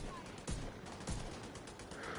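Faint video game weapon fire: a couple of sharp shots punch through a dense, steady wash of game noise, quiet and distant-sounding rather than up front.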